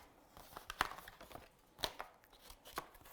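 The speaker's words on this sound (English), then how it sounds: "I'm going to fussy cut around this element here and around this element here" Scissors fussy-cut a paper card frame in a few quiet, separate snips and crisp paper rustles at irregular intervals, close by with no talk.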